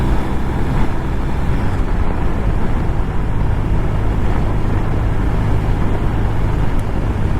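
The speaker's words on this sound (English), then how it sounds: "The sound of this engine on this bike sounds really good" A BMW R1250 RT motorcycle engine drones steadily while riding, a constant low rumble mixed with rushing wind, close and loud with no talking.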